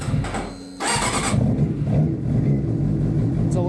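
A Suzuki GSXR 600 motorcycle with high mileage starts from cold: a brief starter whir, then the engine catches and settles into a loud, steady, close idle.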